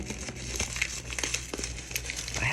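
Packaging from a Kunwu Knives parcel crinkles and rustles as it is carefully cut and opened, a dense close crackle with sharper crinkles throughout.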